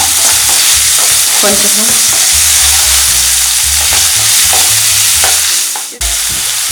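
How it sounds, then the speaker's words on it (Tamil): Onion and carrot stir-frying in a pan, loud close sizzling with repeated scraping and clattering of a spatula as the vegetables are tossed, a brief pause near the end before the frying resumes. "கேரட் எல்லாத்தையும் ஒன்று போட்டுடுங்க. ரொம்ப வேகணுன்றதில்ல, கொஞ்சோண்டு வெந்தால் போதும்."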